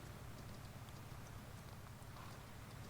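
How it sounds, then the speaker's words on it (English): Horse hooves clip-clopping steadily in Farming Simulator 19, a continuous dense patter of close, fairly loud hoofbeats with no pauses. "I did name the other one Poncho. Poncho the horse."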